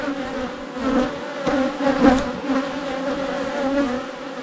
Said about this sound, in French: c'est une abeille qui est dedans